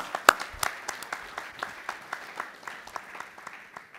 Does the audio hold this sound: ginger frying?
no